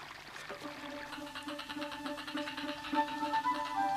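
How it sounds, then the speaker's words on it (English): Meltwater runs and trickles during the Antarctic spring thaw, a faint, steady flow with soft tonal music beneath it. "the slow thaw, and once again the sound of running water are the signs that spring has arrived"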